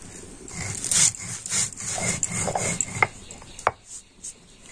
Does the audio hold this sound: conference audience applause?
no